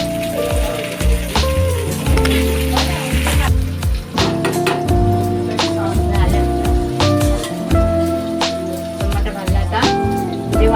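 Chopped onion, kokum pieces and tomato fry in a pan for a spicy prawn masala, giving a steady, loud sizzle that crackles throughout over a tonal background.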